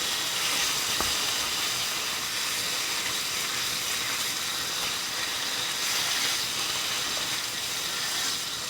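Bacon frying in a pan gives off a steady, close broadband sizzle and hiss that holds evenly from start to finish, with no talking.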